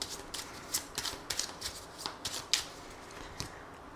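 Lenormand cards being shuffled for a nine-card reading, soft papery riffles and slaps in an irregular rhythm, close and quiet with no talking.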